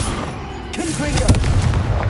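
A Confringo fire spell blast in Hogwarts Legacy, a loud booming burst with crackling impacts swelling in the second half over dense game ambience.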